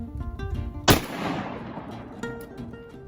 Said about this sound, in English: But we'll shoot through this chronograph, see how fast she goes.